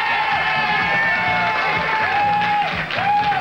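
A late-1970s TV studio audience in Toronto cheers, whoops and claps for dance contest couples, a loud, lively crowd roar with shrill whistles rising and falling over it.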